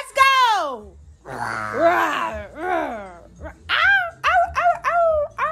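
A person imitates a dog with a run of howling yelps and barks, several in a row, close up and animated.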